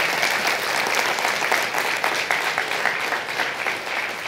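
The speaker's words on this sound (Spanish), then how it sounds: "Démosle un aplauso a todas estas personas que nos visitan." A church congregation applauds visitors, a loud, close, steady round of many hands clapping that continues evenly for several seconds without talk.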